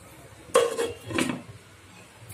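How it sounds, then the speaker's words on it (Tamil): A plate is set as a lid over a cooking pan of mixed bread-roll filling, giving two short, close ceramic-on-metal clinks about half a second apart in a quiet kitchen. "கொஞ்ச நேரம் தட்டு போட்டு மூடி வைக்கலாம்"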